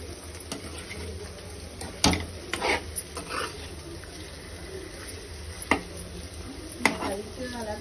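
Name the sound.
gently stirring brain fry in gravy in a pan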